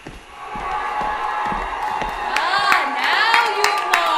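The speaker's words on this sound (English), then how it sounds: "Now you applaud." A theatre audience claps and cheers for the cast of a play, a steady wash of applause with whoops rising toward the end.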